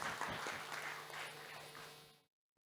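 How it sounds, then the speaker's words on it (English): Audience applause for panelists at a research and policy forum, a dense, even wash of clapping that fades slightly and then cuts off abruptly after about two seconds. "Can we have a big round of applause for our panelists?"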